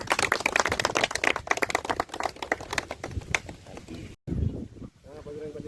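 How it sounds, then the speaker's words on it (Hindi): An audience at an award ceremony in India applauds a cash-prize presentation, dense clapping filling the first seconds before breaking off, followed by murmuring crowd noise. "एक बार ताली बजाएं"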